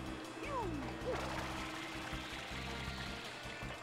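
FLUDD water pack spraying in Super Mario Sunshine by the harbor: a steady, close rushing hiss of water runs continuously beneath tonal game music.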